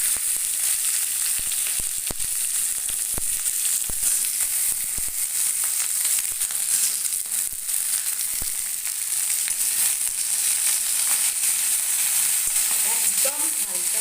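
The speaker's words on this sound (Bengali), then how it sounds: "জাস্ট হালকা এপিট ওপিট করে ভেজে তুলে রাখবো।" Okra frying lightly in a small amount of oil over a low to medium flame, a constant bright hiss with scattered soft crackles and a few faint stirring taps, heard close up.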